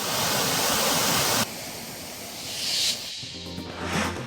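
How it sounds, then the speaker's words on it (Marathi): Kondhaval waterfall in the Bhimashankar valley, with white foaming water pouring off a high cliff during rain: a steady, loud broadband roar that drops to a softer rush midway, with no voices over it. "भीमाशंकर खोऱ्यातील कोंढवळ धबधबा प्रवाहित."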